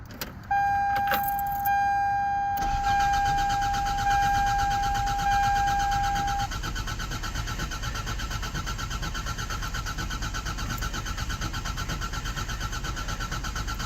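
Toyota engine with a cold start injector problem cranks and catches at close range, preceded by a brief jingle of keys, then settles into a steady rough idle with a high tone fading out partway through.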